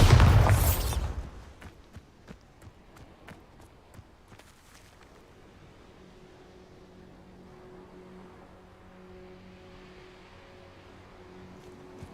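A Bombarda spell explodes in the video game Hogwarts Legacy, a loud close blast at the start that trails off into a low rumbling decay with scattered debris clicks and faint ambient tones.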